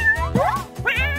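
A kitten meows twice in quick succession, two clear rising-and-falling calls close to the listener, with a low background hum and no talking.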